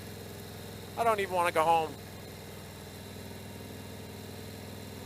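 Steady low drone of a new motorcycle engine held under 3,200 RPM while riding during break-in, continuous and moderately loud, with a rider briefly speaking over it.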